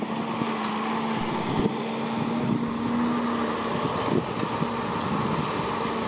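An old blue Kobelco Mark 3 backhoe works nearby, loading soil into a dump truck amid dust, its diesel engine a steady, droning rumble with a faint whine and a few dull knocks.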